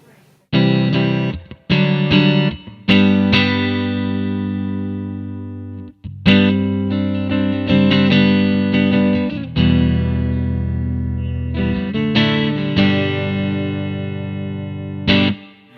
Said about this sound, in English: that's just sort of my go-to flat out spring reverb